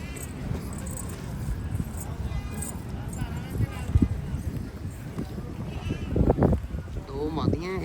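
Goats at a livestock market in Lahore bleat several times amid crowd chatter, wind and nearby talking, with louder bleats toward the end.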